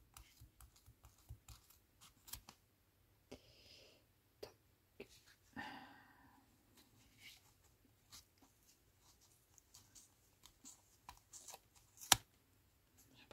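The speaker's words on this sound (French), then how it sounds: "mon ciseau, bah, il va pas vouloir couper comme il faut" Small scissors snipping through tightly wound yarn on a pompom from a craft kit, a series of quiet, close, scratchy cuts and clicks at an irregular pace, with brief pauses between snips.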